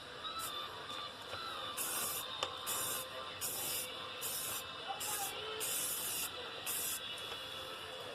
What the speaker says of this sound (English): I'm going to use this Rust-Oleum primer. It's a 2-in-1 filler and sandable primer.